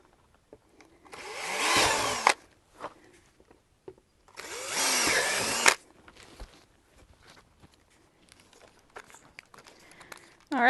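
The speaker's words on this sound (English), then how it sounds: "we're going to go with a slightly smaller drill bit to do a pilot hole" A power drill whirs through soft PVC pipe in two short bursts of a couple of seconds each, drilling a small pilot hole, separated by quiet handling noises and light clattering.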